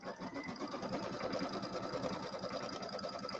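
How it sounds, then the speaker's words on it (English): An embroidery sewing machine stitches placement lines for a St Patrick's Day settee pillow, a quiet, rapid, even mechanical chatter running steadily close by without talk. "I'm going to sew out my placement lines."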